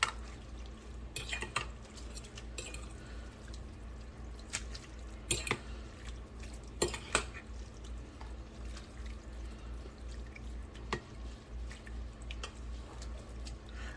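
Chopsticks stir through a bowl of Cambodian kathiew noodle soup with beef rib, shrimp and meatballs, giving faint clinks and wet taps scattered over a steady low background hum, with no talking.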